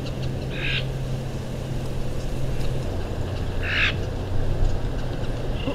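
Two short, faint bird calls recorded in the Chihuahuan Desert in winter, several seconds apart, rise above a steady outdoor hum with low background noise.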